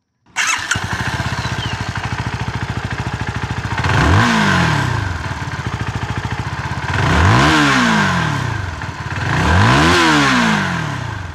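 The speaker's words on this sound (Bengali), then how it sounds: "চাবি দেওয়ার পরে যখন এটার ইঞ্জিন সুইচটা আপনি অন করবেন, এই শব্দটা অনেক বেশি কুল লাগে।" A CFMoto 250NK naked motorcycle with an underbelly exhaust fires up with a starter whir, settles into a steady deep idle, then revs sharply three times, each rise and fall loud and close.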